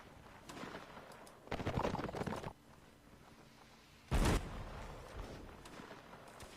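Distant musket and artillery fire echoes across a Napoleonic Wars line battle. A ragged crackle of musket shots lasts about a second, and a short while later a heavy cannon boom thunders out, with faint battle noise in between.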